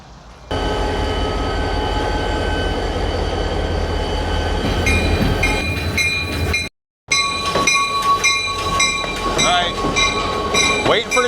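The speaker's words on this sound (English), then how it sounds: "waiting for the train to go by." A train rolls past a trail crossing on the Appalachian Trail in Pennsylvania, a loud sustained rumble of cars and wheels with metallic squeals and tonal screeches building toward the end, broken by a brief gap.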